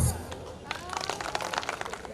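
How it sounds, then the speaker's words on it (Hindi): An audience at an ex-servicemen welfare association program claps in a burst of irregular applause, moderately loud and close, with crowd noise mixed in. "जोरदार तालियां बजाते रहिए व्याप्ति के लिए"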